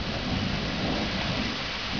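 Thunderstorm with heavy, steady rain and a continuous deep rumble of thunder, loud and close throughout, no voices.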